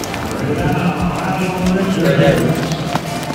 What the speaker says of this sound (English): I try to ride my horse as fast as I can